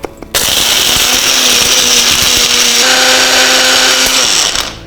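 A mixer grinder powders neem resin with green camphor: a loud, steady high-pitched motor whine that starts abruptly, runs unbroken for several seconds, then cuts off near the end.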